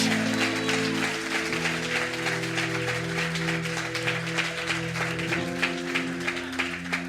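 A church congregation applauds in a sustained, dense wash of clapping mixed with steady musical tones underneath, continuing evenly without pause.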